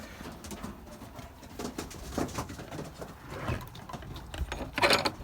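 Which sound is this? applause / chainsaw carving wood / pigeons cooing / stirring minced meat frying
pigeons cooing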